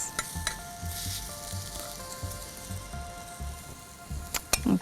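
Zucchini sizzles and crackles steadily on a grill pan, a busy close frying hiss with a faint tonal hum and a few sharp clinks near the end, no talking.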